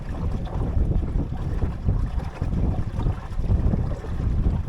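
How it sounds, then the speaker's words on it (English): Strong wind buffets the microphone in a steady low roar, with the wash of water and a motoring boat moving underneath. "In this, actually, the wind is picking up."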